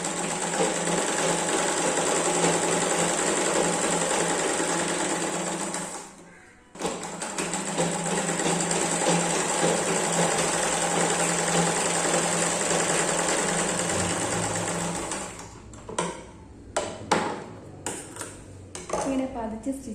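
Sewing machine stitching blouse fabric, a loud continuous whir running close for most of the stretch with one brief pause, then stopping into scattered clicks and handling noises.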